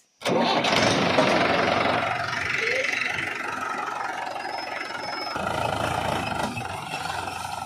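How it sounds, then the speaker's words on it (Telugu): A tractor engine cranks and roars to life abruptly, then settles into a steady, loud rumbling idle nearby with a slight shift in tone later on. "ట్రాక్టర్ స్టార్ట్ చేస్తాను"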